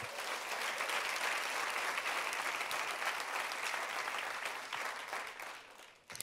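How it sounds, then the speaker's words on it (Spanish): A church congregation applauds in a long, even wash of clapping that holds strong and then fades away toward the close. "Dale un aplauso a Él, por favor."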